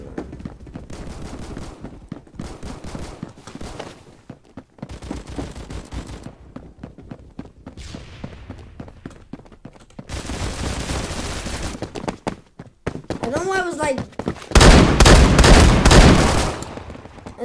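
Gunfire in the Roblox game Phantom Forces rattles in rapid automatic bursts and single shots, loud and continuous, building to a heavy dense barrage near the end with no talking.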